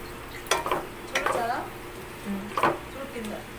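Chicken biryani ingredients being stirred in a sizzling pan, with scraping spoon strokes over a low frying hiss and a voice talking throughout.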